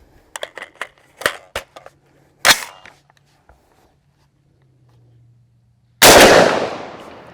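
A loud rifle shot from a Bear Creek Arsenal .458 SOCOM AR rifle bursts out alone near the end, ringing off at close range after a stretch of quieter clicks and handling noises.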